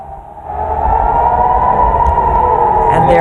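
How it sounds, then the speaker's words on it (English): A loud, sustained air raid siren wail in Israel, rising in and holding steady, droning continuously with rumbling background noise. "the terrifying sound of an air raid siren."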